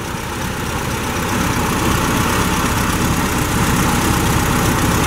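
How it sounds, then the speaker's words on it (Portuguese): An original 1979 Volkswagen Brasília with twin carburetors idles smoothly up close, a loud, steady low rumble that holds an even tone from start to finish. "Motor funcionando redondinho."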